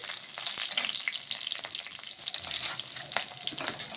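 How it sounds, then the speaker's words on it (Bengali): Bay leaf and green chillies fry in hot oil in a pan, giving a steady bright sizzle with small crackles and pops, close and continuous. "তেজপাতাটা আর লঙ্কা করছি ভাজা ভাজা করে নিচ্ছি"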